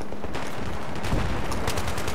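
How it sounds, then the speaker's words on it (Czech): Rapid gunfire in the video game Battlefield 3, heard during a Conquest match on the Damavand map. It comes as a dense, steady stream of shots that grows louder and more punchy in the second half, with no talking over it. "Jo, střílí po mně."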